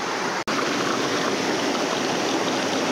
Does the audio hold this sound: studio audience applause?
no